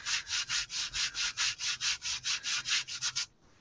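Fine-grit sandpaper rubs back and forth in a steady, fast rhythm of about eighteen close, even strokes, then stops abruptly.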